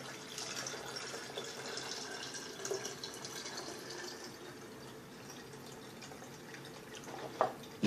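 Homemade ginger-limeade made from ginger root and limes is poured through a strainer in a faint, steady trickle and drip that runs throughout, with a few brief clinks near the end.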